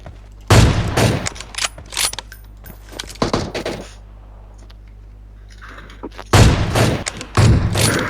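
Gunfire in the PUBG Mobile shooter: several loud bursts of shots arrive in two clusters, one early and one near the end, with quieter clicks and rattles between and no talk.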